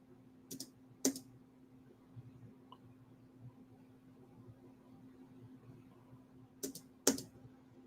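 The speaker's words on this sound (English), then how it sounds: "Let me do it with my keyboard." A few separate computer keyboard key clicks, grouped in two brief pairs near the start and end, sharp and fairly close against a quiet background hum with long gaps between them.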